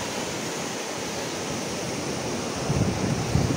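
Surf and wind at Dande beach on the Konkan coast make a continuous broad rush, with a slightly heavier surge of waves toward the end.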